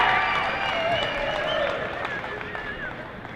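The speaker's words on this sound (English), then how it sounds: "Can I hear some noise from the crowd?" A crowd cheers and makes noise at the start of a women's race, a steady loud wash of voices and claps with talk over it.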